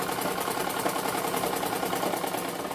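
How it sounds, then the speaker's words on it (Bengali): A sewing machine runs a double stitch along a pillow cover, a fast, even mechanical whirr with a regular ticking rhythm, close and steady with no voices. "ডাবল করে সেলাই করে দেব আমরা ডাবল করে সেলাই করে নিয়েছি"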